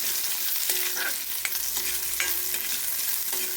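Steady sizzling hiss of hot oil dotted with sharp little pops and crackles, like mustard seeds spluttering in a pan close by.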